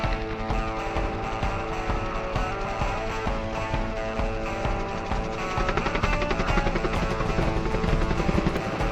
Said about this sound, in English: that's why there's a helicopter in the air today.